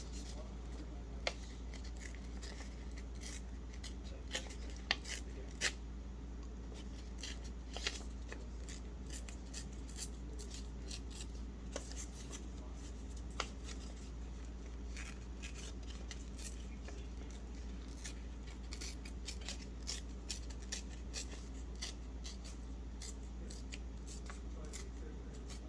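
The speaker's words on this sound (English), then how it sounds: "I'm going to go ahead and rip my edges just to make it a little more rustic" Paper edges being ripped by hand while making rustic junk journal ephemera: a run of short, crisp tearing and crinkling bursts spread across a long stretch, close by and moderately loud.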